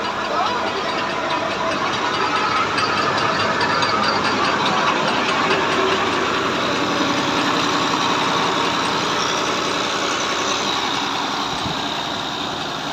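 A Romanian-made 533 tractor engine running at a steady idle, loud and close, with a continuous rough rumble and faint knocking throughout, no pauses.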